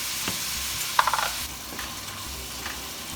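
Ground beef sizzles steadily in a pan while being seasoned, with a quick run of scraping spoon strokes near the middle and soft, close frying hiss throughout.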